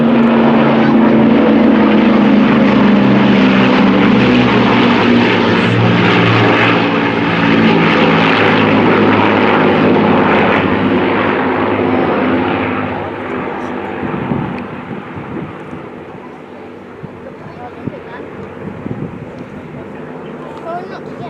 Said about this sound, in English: we will see the iconic formation of the line astern, the Dakota being tailed by the Lancaster